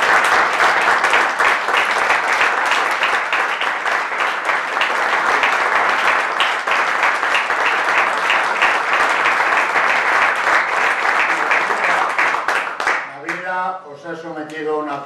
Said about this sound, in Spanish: pediros un fuerte aplauso